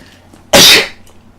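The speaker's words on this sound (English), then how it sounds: "I'm about to sneeze." A single loud, sharp human sneeze bursts out close by after a quiet stretch, then trails off briefly; no talking.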